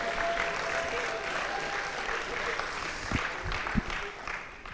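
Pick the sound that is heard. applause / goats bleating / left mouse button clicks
applause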